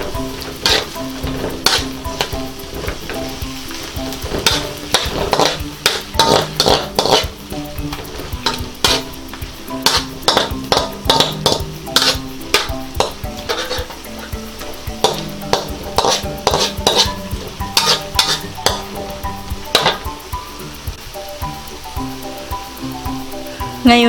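Shrimp and broccoli in a honey sauce are stirred in a pan, with a rapid series of sharp utensil clacks and scrapes over a steady low sizzle, close and prominent throughout, no one speaking.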